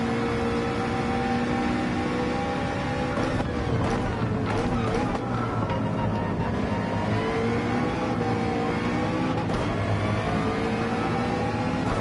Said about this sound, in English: so I'm going to let this car by. He's got a ton of speed on me.